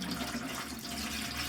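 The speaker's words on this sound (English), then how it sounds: "just very carefully pour the apple juice into the stock pot" Apple juice poured steadily from a container into a stock pot, a continuous close liquid rush of even loudness with no talking.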